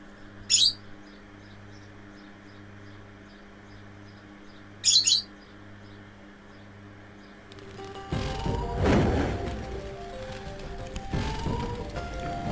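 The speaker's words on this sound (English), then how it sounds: "They're pelicans, really, aren't they?" Pelicans in Breeze Harbor from the video game Spyro 2: two short, sharp bird squawks rise over a quiet looping game backdrop, then louder, busier game sounds take over near the end.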